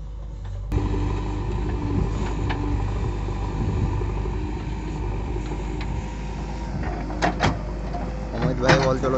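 A JCB excavator engine runs steadily nearby on pipeline field work, a constant low mechanical drone with rattling, and a few sharp clanks near the end.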